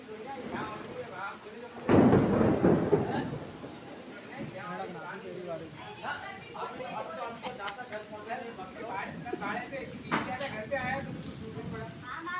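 Thunderstorm as the first rain of the season begins: a loud rumbling burst of thunder near the start, then steady rain hiss with a sharper crack later, while people talk throughout.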